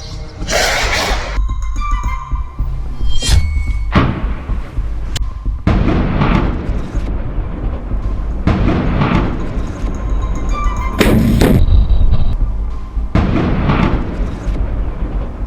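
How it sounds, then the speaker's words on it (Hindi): Repeated heavy booms of exploding mortar shells at irregular intervals, some sharper and closer, over a constant rumbling background. "ये मोटार सीधे आईडीएफ की पोजीशन पर जाकर बरसने लगते हैं, जहां पर जोरदार धमाका होता है"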